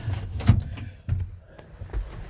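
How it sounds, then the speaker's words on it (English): A stiff door on an older Chevy C10 pickup is pushed shut, giving a dull low thump followed by a couple of smaller knocks and rattles, close by with no talking. "This door's kind of hard to shut."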